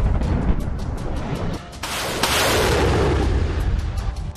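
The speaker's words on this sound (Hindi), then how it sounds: "पुतिन के प्रलय बम से हाहाकार, युद्ध का रुख पलटने वाला वार। 1500 किलो का बम" A 1500 kg bomb explodes in the Russia-Ukraine war, a sudden broadband blast that rises out of a rough rumbling background and decays into a long, roaring wash of noise.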